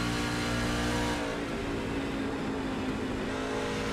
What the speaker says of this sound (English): Now we hear that truck continue to stay running.